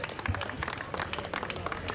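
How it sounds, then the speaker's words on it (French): Spectators at a junior U19 cycling race in the Tour du Carmausin Ségala applaud a rider being introduced. The clapping is brief, scattered and fairly faint, as if outdoors and at a distance. "Vos applaudissements pour Maxence Chavanel."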